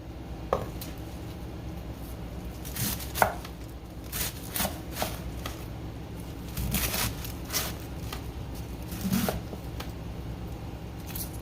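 Vegetables for cabbage roll soup are chopped on a cutting board: irregular, fairly quiet knife strikes, sometimes single and sometimes in short clusters, against a soft kitchen background with no talking.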